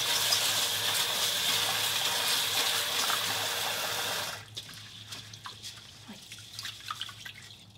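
Tap water gushing loudly while rice is rinsed for soybean paste soup with cabbage, cutting off after about four seconds and leaving small splashes and drips.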